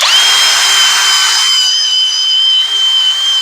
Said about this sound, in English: I do like this drill.